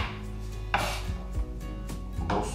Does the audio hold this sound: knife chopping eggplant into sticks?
yes